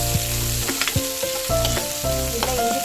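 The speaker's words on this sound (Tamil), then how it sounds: "இது கூட நீங்கள் இஞ்சி பூண்டு பேஸ்ட் வேணுனாலும் அரைச்சி இது கூட நல்லா சேர்த்து வதக்கிக்கலாம்" Onion, curry leaves and mint sautéing in a pan for an eggplant gravy, a loud continuous sizzle broken by repeated scraping stirs and utensil knocks, with a tonal hum running underneath.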